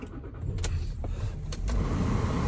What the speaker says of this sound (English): We're going to run the truck.